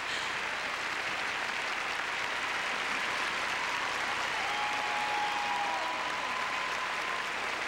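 Large arena crowd in Las Vegas applauding a figure skating performance by Nancy Kerrigan, a steady, dense wash of clapping that holds evenly throughout with no break.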